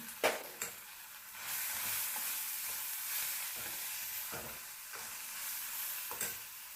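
Onions salted and frying in a pan for a Karnataka-style chickpea palya sizzle steadily up close, broken by repeated scraping stirs of a spoon, with no speech.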